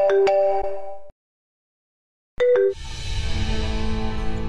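A phone ringtone plays a short two-tone electronic melody, pauses in silence, then starts again as background noise swells in; no one speaks.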